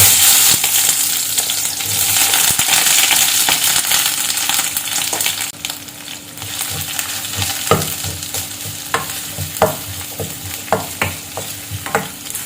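Whole spices (cinnamon, cloves, bay leaf, fennel) frying in hot oil in a pan for chicken gravy: a steady loud sizzle throughout, with scraping stir clicks and clatters growing sharper toward the end.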